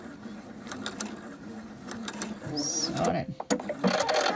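Sewing machine stitching across a small fabric triangle to finish a placket, a steady mechanical whir broken into short bursts and pauses, heard close up with a brief spoken word near the end.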